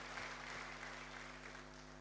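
A church congregation applauds in a steady wash of clapping, faint and distant, with a low electrical hum running underneath.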